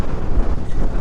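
Strong wind buffeting the microphone on a motorcycle road trip in the Philippines, a dense low rumbling roar with uneven gusts and no voices.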